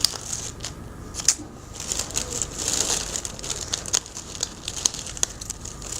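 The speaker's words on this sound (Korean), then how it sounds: "비닐을 조금 잘랐어요." Plastic wrap being trimmed and crinkled while assembling a Valentine's flower box, with soft irregular crackles, rustles and small snips close by, fairly quiet and without talk.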